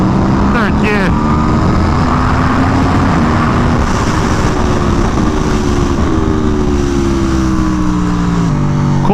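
A race car engine pulls hard in third gear around the Streets at Willow Springs track, a loud steady drone with rising pitch. Short shifts break it near the start and end, and wind roars over it.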